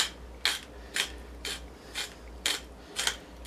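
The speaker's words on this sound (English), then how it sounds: "I'm just grinding my big huge ass pepper grinder, putting pepper all the way down and across all the" A big hand-cranked pepper grinder twisting over food, giving a steady series of crisp ratcheting, crunching bursts about twice a second, close and clear with no voices.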